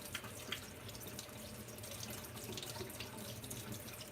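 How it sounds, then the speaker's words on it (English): A faucet runs steadily while a makeup brush is rinsed under it, a faint, even splashing hiss with small drips and no talking. "you're running it under the faucet."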